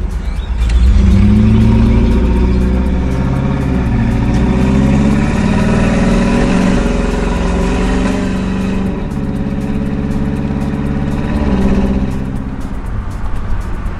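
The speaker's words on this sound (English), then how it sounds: "Yeah, it's definitely running rough." A Ford Lightning pickup's engine running rough, a close, loud, uneven idle with throaty low rumble and some revving swells, the pitch dipping and recovering unevenly, with no voices.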